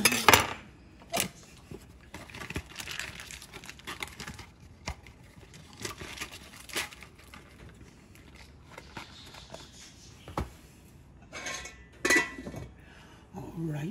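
A metal spoon clinks and scrapes against dishes while preparing a keto meal, with a string of sharp, irregular close-up clinks and softer clatter at moderate volume, no voices.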